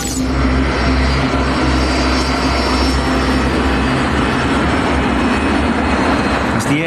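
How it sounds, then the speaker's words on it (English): A BEA airliner on Flight 548, bound for Brussels, climbs out after takeoff from Heathrow with a steady, loud droning engine roar and sustained tonal hum that carries evenly throughout; no talking. "As the aircraft climbs out of Heathrow, Key, at the controls"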